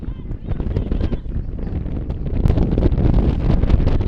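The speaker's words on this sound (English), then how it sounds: "It's just really windy right now." Strong wind buffets the microphone at a softball field, a loud continuous rumbling roar that builds slightly over the clip.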